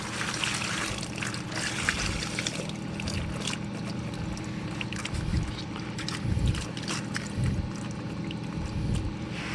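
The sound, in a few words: water poured on a tire to check for air bubbles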